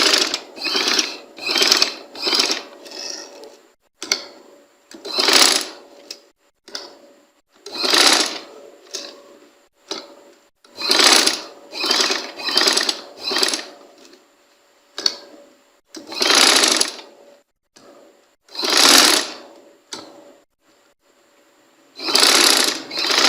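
A sewing machine stitches folded fabric pieces together for a pintuck trouser design, running in repeated short bursts of rapid mechanical chatter separated by brief pauses, close and clear with no talking.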